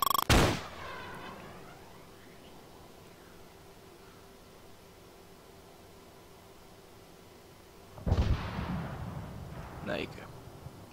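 A Javelin missile in a military video game launches at a tank with a sharp loud blast, the roar fading over a long low rumble, then a second heavy burst of explosive noise follows near the end.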